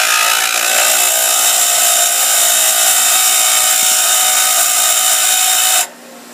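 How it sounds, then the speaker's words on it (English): A bench grinder wheel shapes a metal rivet for a knife pin with a loud, steady broadband whine and hiss, running continuously until it cuts off abruptly near the end. "Turn off your bench grinder."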